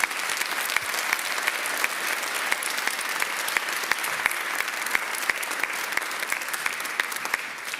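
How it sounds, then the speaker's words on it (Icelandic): A congregation in Lindakirkja church applauds children during a Sunday service, a steady, dense clapping from many hands with a few sharper individual claps standing out, continuing evenly throughout. "Eigum ekki að gefa þessum flottu krokkum gott klapp."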